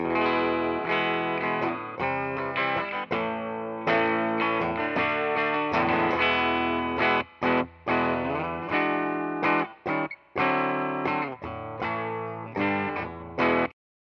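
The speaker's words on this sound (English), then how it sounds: "Got my gold top Les Paul Standard here, and here's what the clean tone sounds like" A gold top Gibson Les Paul Standard electric guitar plays in a bright, chordy pattern with dense strums and picked notes, loud and close, stopping briefly a few times before a final cutoff.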